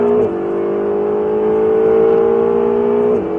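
A Ferrari 488 GTB engine holds a loud, steady full-throttle drone with a rising tone, cutting off briefly at the start and end for gear changes, heard from close inside the car.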